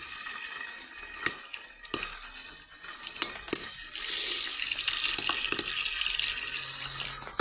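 Popcorn kernels heating in a pot that is stirred every so often, with a few scattered sharp pops and scraping over a rising hiss that grows louder and steadier in the second half, close by and without speech.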